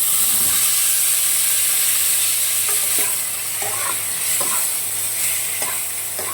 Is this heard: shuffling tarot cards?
no